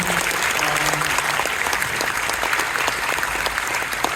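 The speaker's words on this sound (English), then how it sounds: "Ladies and gentlemen, please give a round of applause to this amazing team." An audience at a District 82 public speaking event applauds a team, steady dense clapping throughout with a faint voice underneath.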